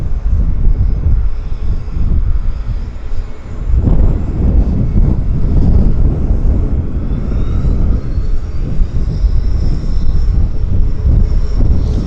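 A Zipair airliner departs Vancouver YVR airport: a loud, continuous jet roar that swells after a few seconds and holds steady, with wind buffeting the microphone.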